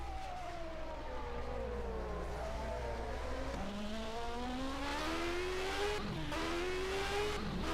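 An on-board 1991 Formula One car engine at the Canadian Grand Prix screams through rising and falling revs as it races through corners, a loud continuous whine that climbs through gear changes and drops on braking.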